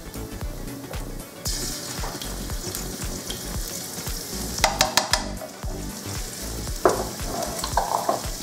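Minced garlic frying in oil in a pan after most of the rendered fat has been removed, giving a steady, close sizzle with brief stirring clatters midway and near the end.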